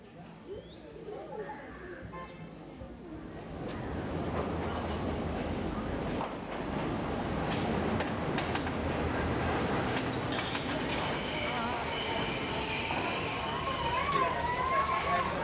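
Train on a hill-country plantation railway line in Sri Lanka rumbles along steadily, wheels rolling and carriages rattling, with a high squeal rising near the end and a voice speaking over it.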